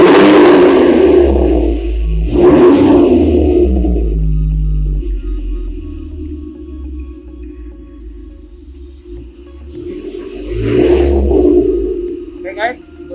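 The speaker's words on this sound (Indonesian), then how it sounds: "ini suaranya karena kita ganti knalpot system, dia lebih sangar suaranya gitu" A supercar fitted with a replaced, more aggressive exhaust system revs twice, with loud deep surges separated by a long rumbling idle, recorded close up with someone speaking over it.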